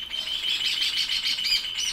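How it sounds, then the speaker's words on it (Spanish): Many small birds chirp and twitter from the branches of a laurel tree, a steady run of bright, high tweets close by with no talk. "A full ahí los pájaros. Están todos acá arriba del laurel."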